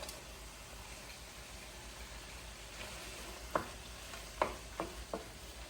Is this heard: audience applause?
no